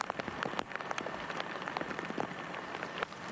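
Steady rain pattering on the soaked fairways of Merion golf course during a U.S. Amateur championship match, a dense continuous hiss of drops with scattered sharper splashes, no voices.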